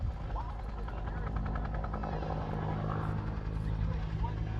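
A UH-1 helicopter at an air show makes a steady, loud rotor drone with rhythmic blade chop that holds throughout, with faint talk in the background.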